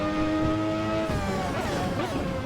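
A 3.5-liter V12 in a Ferrari 643 Formula One car from a racing video game warms up, giving a loud, continuous high-pitched engine whine whose pitch holds steady, then dips and wavers slightly with revs.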